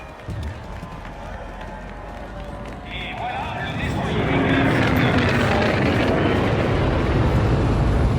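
A military aircraft engine in the game Call of Duty Infinite Warfare swells from a low rumble into a loud, steady roar that fills the second half, under French-speaking voices.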